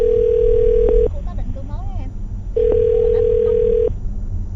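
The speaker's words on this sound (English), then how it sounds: "I'm going to dial her phone number right now" A telephone call being placed gives two long, steady ringing tones with a short pause between them, heard clearly and alone.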